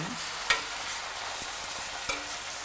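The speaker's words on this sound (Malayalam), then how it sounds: "ഇതും കൂടെ ഒന്ന് ഫ്രൈ ആവണം ചെറുതായിട്ട് ആ എണ്ണയിൽ" Fish pieces sizzle softly in hot oil in a Kerala kitchen, a steady low frying hiss with a couple of sharper pops and a utensil tap near the start, heard alone without talk.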